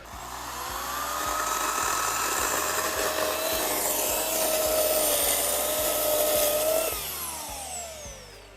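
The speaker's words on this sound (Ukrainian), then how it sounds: "А ти можеш вмикати пилку" An electric saw whines steadily at close range at a remote island site, its loud motor pitch wavering for several seconds before winding down near the end.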